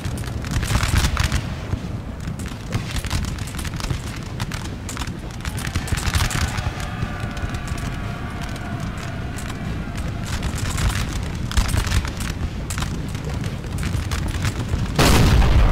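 Cannon fire in the Napoleonic-era strategy game Napoleon Total War, repeated booms and crackling volleys rolling through a dense continuous battle din, with a heavy close blast near the end.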